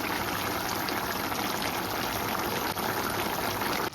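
Mutton curry simmering down in a pot, Jaffna style, with a steady dense bubbling and hiss of reducing liquid that stays even and close throughout, no voices.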